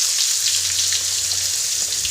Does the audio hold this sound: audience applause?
no